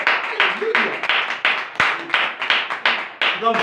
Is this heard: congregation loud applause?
yes